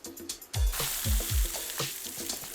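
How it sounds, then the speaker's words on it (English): Beef sizzles and crackles in a hot frying pan with onions, a loud steady fry after a quiet start, with repeated low thumps as a spoon stirs it around. "That's the sizzling."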